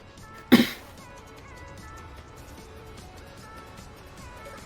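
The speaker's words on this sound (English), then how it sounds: "He's also basically dealing with a near chronic cough" A single sharp cough bursts out near the start from a man with a near chronic cough brought on by a cigarette-smoking environment, then fades to a quiet room hum.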